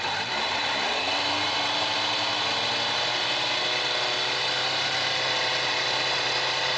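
A Kawasaki ZZR1100 D motorcycle engine under restoration idles close by, a loud, steady, unbroken drone with an even mechanical hum and no voices over it.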